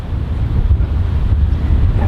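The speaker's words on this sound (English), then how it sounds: "So windy today." Strong wind buffets the microphone in a loud, continuous low rumble with no voices.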